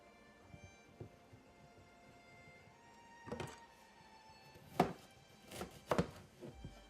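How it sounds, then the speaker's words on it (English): Ends are trimmed off celery and carrots on a cutting board in a home kitchen. Several sharp knife chops and thunks come sparsely and close, with quiet pauses between them and no talk. "Here's my celery, carrots. Cut off the ends."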